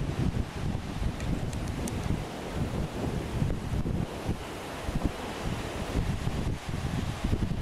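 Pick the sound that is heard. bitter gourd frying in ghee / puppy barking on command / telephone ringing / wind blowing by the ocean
wind blowing by the ocean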